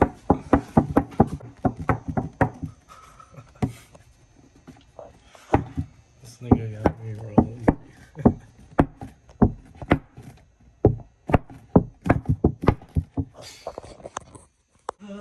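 A BMW 535i xDrive engine knocks with a steady series of sharp, hard taps that run unevenly through the whole stretch, close and loud, while people talk nearby.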